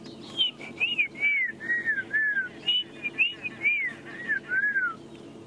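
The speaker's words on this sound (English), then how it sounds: "I can also hear a black-crowned chagra. It's actually much louder here." Black-crowned tchagra calling at sunrise in the Sabi Sand bush, a series of clear descending whistled phrases repeated in quick succession, fairly close and prominent over a soft background of other birds.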